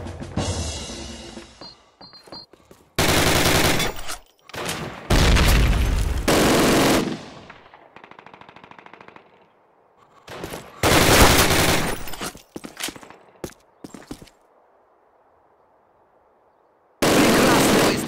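Loud bursts of rapid gunfire and blasts in the video game Call of Duty: United Offensive multiplayer, broken by short silences and quieter stretches, close and harsh.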